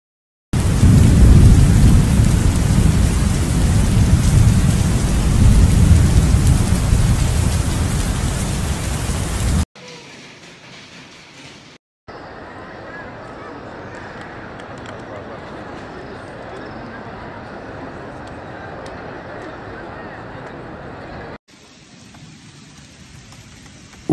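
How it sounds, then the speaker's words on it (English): A heavy rainstorm with thunder in Mecca: loud, dense rain roars steadily, then cuts to quieter, more distant downpour passages with a low thunder rumble beneath. "Rain fell from the sky like stones."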